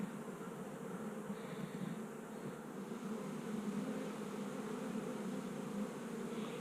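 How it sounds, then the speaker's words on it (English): Honey bees in an opened vertical hive give a soft, continuous buzzing drone, low and even throughout, with no talk over it. "The bees are very quiet again."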